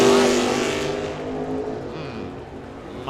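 A Hemi-powered Mazda drag car at Firebird Motorsports Park roars loudly at first, then fades as it pulls away down the strip, with some voices faint underneath.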